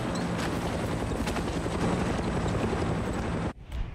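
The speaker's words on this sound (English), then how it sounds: "Now I have nothing to take out that helicopter." A helicopter in the video game Far Cry 6 thrums loudly and steadily with rapid rotor chop, then cuts off abruptly near the end, leaving a brief quieter rustle.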